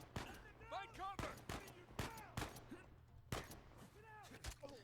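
Sniper gunfire in the Uncharted 4 video game: sharp, loud shots cracking at irregular intervals, roughly six across a few seconds, mixed with in-game voices and shouting.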